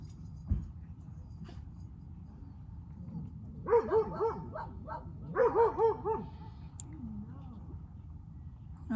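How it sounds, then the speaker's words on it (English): Dogs bark in a short burst of several yips and barks at middle distance, then a second cluster a moment later, over a quiet background with a faint thump early on. "waiting for the dog bark to stop"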